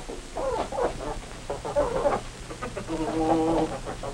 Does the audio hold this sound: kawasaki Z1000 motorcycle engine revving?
no